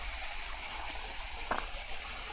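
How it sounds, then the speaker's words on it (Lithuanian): A warm mountain stream in the Pyrenees flows steadily, a continuous close rushing wash of water with one brief splash partway through. "Baisiai gaivinantis upelis, nusiplojam veidą, pasišlapinam rankas"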